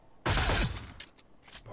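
A loud, dense burst of gunfire erupts from the video game Atlas Reactor, a rapid volley lasting under a second before fading into scattered sound effects.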